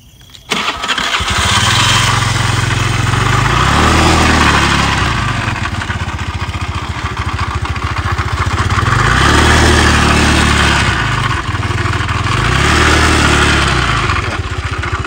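Motorcycle engine in a village at night fires up abruptly and settles into a loud, rough, rattling idle close by, its throb swelling and easing a few times, with no talk over it.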